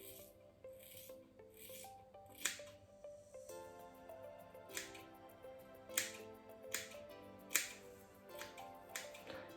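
Scissors snip through hair during a self-haircut at home, giving a series of crisp, irregular cuts that come through clearly over soft background music.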